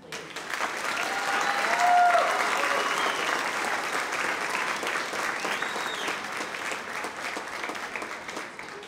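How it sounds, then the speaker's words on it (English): A school concert audience gives the 6th grade choir a big round of applause, steady and full-bodied clapping from a crowd that stays loud throughout. "let's give them a giant round of applause, please"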